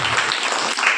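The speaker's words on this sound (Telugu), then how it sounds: "చప్పట్లు కొట్టి ప్రభువును మహిమ" Congregation in a church clapping, a dense, loud burst of applause filling the whole second with no break.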